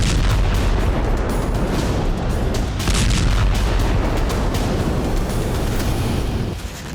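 Heavy rumbling booms and roaring blasts from a drone strike on a Moscow thermal power plant, a continuous loud low-frequency roar with wind buffeting the microphone, fading near the end.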